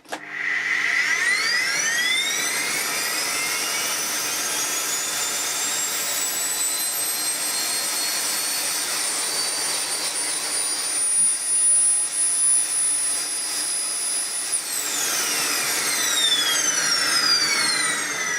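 A Hoover Dust Manager cyclonic cylinder vacuum cleaner rated at 2000 watts runs continuously, its motor whining up to a high steady pitch and holding a loud, close whir for the full stretch before dipping slightly and recovering.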